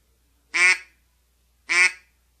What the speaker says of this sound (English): I'll get a real flat quack